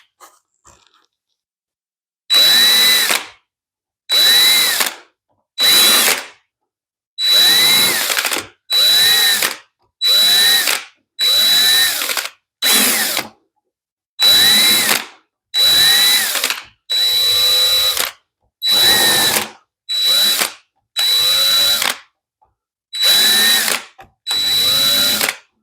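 A power drill with a countersink bit bores holes in ABS plastic for custom fender liners, giving about fifteen loud, steady whirring bursts of one to two seconds each, separated by short silent pauses.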